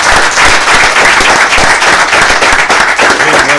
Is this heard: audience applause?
yes